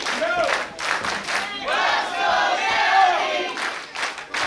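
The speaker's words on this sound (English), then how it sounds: "You hear the cheering for you?" A large crowd at a professional wrestling show roars and chants loudly, voices rising and swelling together in an energetic, sustained cheer.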